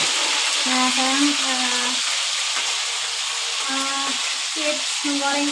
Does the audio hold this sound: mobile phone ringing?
no